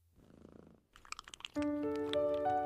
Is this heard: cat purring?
yes